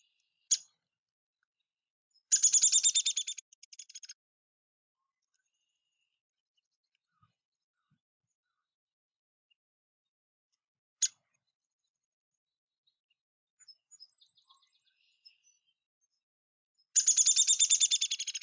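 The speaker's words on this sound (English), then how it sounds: "the downy is very similar, but the notes descend a little bit lower," Downy woodpecker calls: a short sharp pik note followed by a rapid descending whinny trill, repeated a few times with long silent gaps, clear and isolated.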